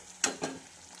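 Paneer gravy in a pan gives a short, sharp sizzle as water goes in, with a second smaller hiss a moment later before it settles into a faint simmer.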